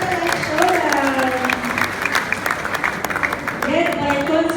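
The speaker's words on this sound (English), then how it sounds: "Let's give them a round of applause" Audience applause for a youth orchestra from Taguig, a dense, steady clatter of many hands filling the room, with a few voices and cheers rising over it throughout.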